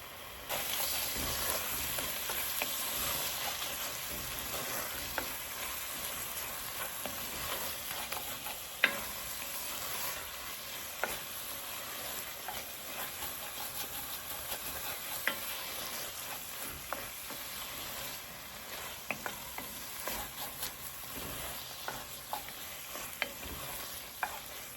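Tomato sauce for arroz con pollo sizzles steadily in a pan, a continuous bright frying hiss with occasional small pops and stirring scrapes, close and alone with no voices.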